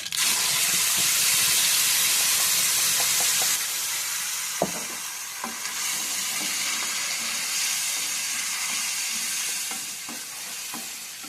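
Red chilli paste dropped into hot oil for a tempering with cumin and curry leaves, sizzling and frying steadily and loudly throughout, with occasional stirring clinks and no talk.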